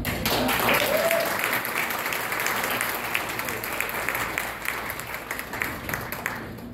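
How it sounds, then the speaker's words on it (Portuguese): An audience at a Spiritist group's stage show claps together in steady, fairly loud applause, a full crowd of hands sustained throughout with a gradual easing toward the close. "Palmas para o fulano."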